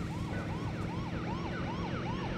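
A police car siren in the Midtown Madness driving game wails in a fast, repeating rise-and-fall pattern, steady and fairly loud over a constant low engine rumble, with no voices.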